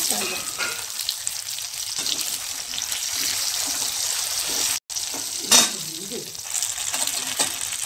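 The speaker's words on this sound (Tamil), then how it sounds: "பட்டை போடணும் கிராம்பு போடணும் சோம்பு கசகசாவையும் போடணுங்க போட்டு நல்லா வதக்கணும்" Cinnamon, cloves, fennel and poppy seeds sauté in oil for a coconut kulambu, a steady bright sizzle running throughout with occasional stirring scrapes and one brief dropout midway.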